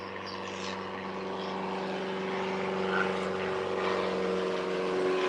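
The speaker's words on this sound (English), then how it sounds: "It's a 4-person airplane, single prop." A single-prop, four-seat airplane with a Lycoming engine passes overhead, its steady droning hum holding at a moderate distance and swelling slightly toward the end, with no voices present.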